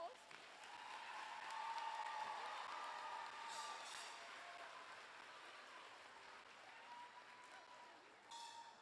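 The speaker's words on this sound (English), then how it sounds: "Let's give our boys and girls a big round of applause." Audience applause at a fifth grade promotion program, soft and distant clapping from a crowd, sustained for several seconds with light murmuring voices mixed in.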